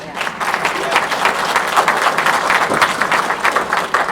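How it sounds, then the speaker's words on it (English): A conference audience at Westmoreland County's Blight Remediation Summit gives a round of applause. Dense, even clapping fills the room and stays strong throughout, with no talking over it. "Everyone, show a round of applause for Hallie."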